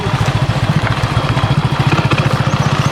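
A motorcycle ridden in second gear on a rough off-road track, its engine loud and close with a fast, steady pulsing throb and some clatter.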